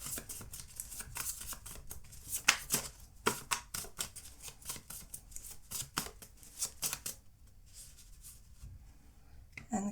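Tarot cards being shuffled and drawn from a deck in a card reading, with rapid papery riffles and snaps in uneven bursts, close and fairly quiet, with no talk over them.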